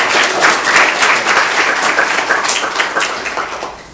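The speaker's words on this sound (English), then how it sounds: "a round of applause" A small audience at a Ruby programming talk claps after the presentation, a fairly loud, steady round of applause with individual claps audible, tapering slightly toward the end.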